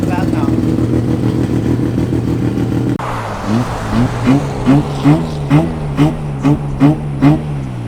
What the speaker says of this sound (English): This car came out amazing, man. Sounds so good, sounds proper.